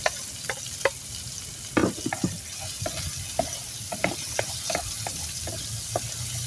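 Garlic and onion frying in hot oil in a pan for cabbage sauté, a steady sizzle with scattered clicks and scrapes of a spatula stirring, close by and moderately loud with no talking.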